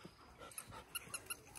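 Dogs romping nearby, with soft panting, small growls and a few quick yips and jingles, faint and close.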